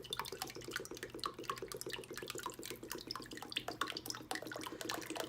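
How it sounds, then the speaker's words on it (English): Lye solution poured into a soap mixture being made at room temperature: a faint, steady trickle and splash of liquid running continuously without pause. "I'm pouring in my lye solution."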